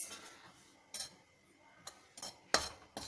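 Plain wheat flour (atta) is slowly stirred in a kadhai over a low gas flame, with faint, scattered scrapes and light clinks of a spoon against the metal pan.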